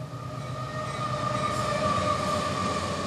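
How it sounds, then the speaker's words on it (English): A train passes as a sound effect during a children's story reading about hopping a boxcar from Chicago to San Francisco. A steady rumble of rolling wagons swells gradually, with faint squealing wheel tones and no voices. "here comes a train."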